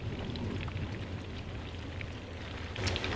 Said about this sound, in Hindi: तो कोफ्तों को हम हल्का हल्का फ्राई करेंगे।